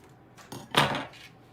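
Ribbon scissors cut through ribbon at a card-making craft table, giving one brief, crisp metallic snip up close with no talk.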